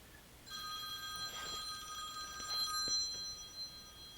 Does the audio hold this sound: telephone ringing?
yes